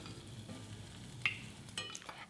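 An ingredient frying in a pan and being turned with tongs until its liquid cooks off, giving a faint steady sizzle broken by a few sharp clicks of the tongs.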